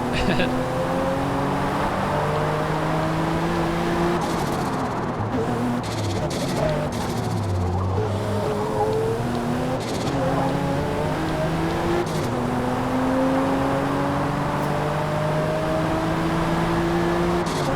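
Race cars, including a Corvette, drone steadily around a circuit in Forza Motorsport, engine tones rising and falling continuously as cars run close together, with a few brief clicks.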